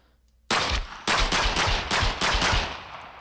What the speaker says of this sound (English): Now on to the M1911 Colt .45